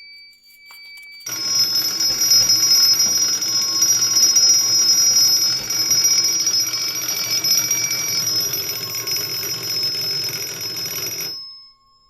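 A fire alarm system sounds in California code during a system test: a loud, continuous electronic tone with a steady high ring that holds for about ten seconds, then cuts off.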